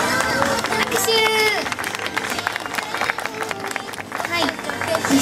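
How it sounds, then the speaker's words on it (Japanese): A crowd at a live idol stage event applauds steadily during a bouquet presentation, with cheering and music mixed in throughout. "拍手。"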